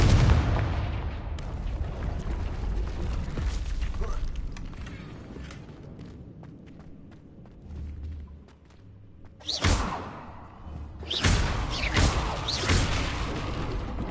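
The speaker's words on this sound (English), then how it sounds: "Confringo!" The Confringo explosion spell goes off in the Hogwarts Legacy video game: two loud, sharp blasts sound near the end over a steady rumbling game background.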